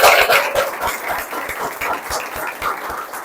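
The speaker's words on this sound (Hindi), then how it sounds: "उसके लिए बहुत तालियां बजाइए।" Applause for a student who earned rank 164 in the CG SET exam, a lively burst of clapping from a group that stays close and fairly loud, with sharp individual claps standing out.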